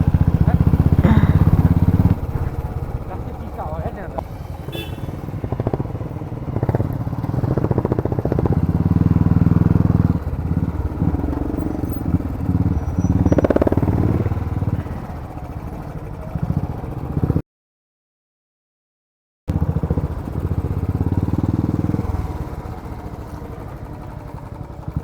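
A scooter rides along a forest road near Bhaktapur, its engine a steady close drone that rises and falls with the throttle, drops out briefly near the end, then resumes.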